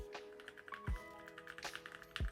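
Close, quiet keyboard typing, a run of soft key clicks with a few heavier thumps mixed in, no voices.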